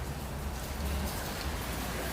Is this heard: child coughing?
no